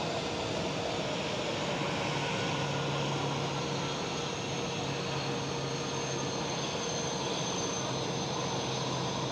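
A Delta Airlines A330 gives its engines a brief burst of power while taxiing to the gate at Amsterdam Schiphol, a steady broadband jet roar with a low hum, close and loud, holding evenly throughout with no voices.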